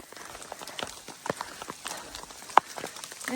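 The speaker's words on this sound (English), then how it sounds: "And here's the hail." Hail pelts down during a thunderstorm on a mountain pass, scattered irregular ticks and taps over a soft background hiss, close by, with one louder sharp impact standing out near the end.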